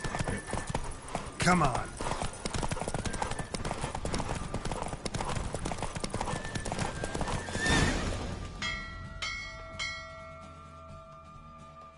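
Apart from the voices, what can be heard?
horse galloping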